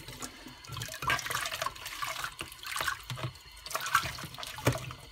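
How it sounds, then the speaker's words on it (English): A Dyson DC41 vacuum filter is rinsed in warm water, with irregular splashing and running water close by, rising and falling in bursts. "in some warm water and then it flows out black. Look at that. That's the first rinse."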